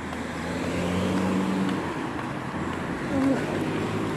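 Steady road traffic on a busy city street late at night in Singapore, a continuous low rumble of passing cars with a slightly louder vehicle swelling near the end.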